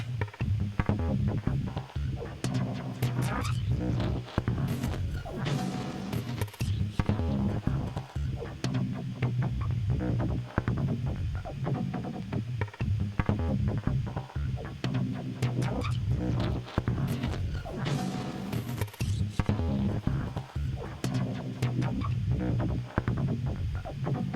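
A dense, shimmering synthesizer reverb texture made with a Clouds module swells and churns without a break, grainy and washed-out, with no voices.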